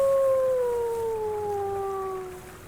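A rival wolf howling in the WolfQuest game, a single long clear howl that slides slowly downward in pitch and fades away at the end, with no talking.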